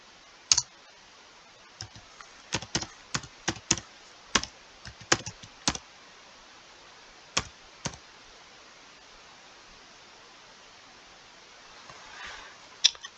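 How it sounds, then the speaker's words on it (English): Keys clack on a computer keyboard as a grep command is typed into a Linux terminal, a quick burst of sharp keystrokes, then a long pause before a couple of final taps. "I'm typing a grep command"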